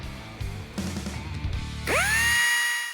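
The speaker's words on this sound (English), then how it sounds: "we can begin drilling all the holes out using the drill press and a 3/8 inch drill bit" A drill press whirs up to a high, whining pitch after some clanking handling noises, drilling holes in metal with a 3/8 inch bit, the motor holding steady at close range.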